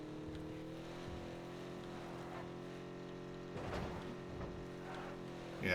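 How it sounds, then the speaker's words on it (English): A car engine driving in the video game PUBG, a steady droning hum with layered tonal whine that holds constant and faintly louder at moments, moderately quiet with no speech over it. "This car really doesn't want to go."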